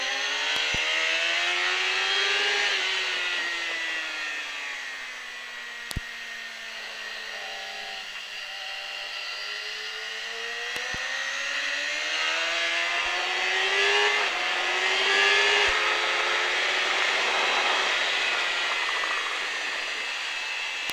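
A race car driven through a chicane on the Pau stage circuit, engine note loud and close throughout, pitch sweeping up and down with gear changes as it brakes, turns and accelerates out again.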